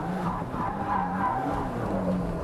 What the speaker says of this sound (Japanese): 人が乗ってないこのようなバンとかでドリフトとかやってると